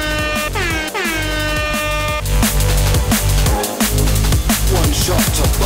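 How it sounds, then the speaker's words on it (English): Loud air horn sound effect blasting repeatedly over a pounding music track, with a descending horn sweep early on followed by rhythmic horn hits. "That's what the show needs, is just more air horn."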